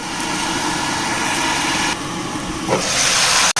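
Cauliflower and a little potato frying in a pan for vegetable noodles give a loud, steady hiss that carries through, briefly dipping and swelling before a sharp cut near the end.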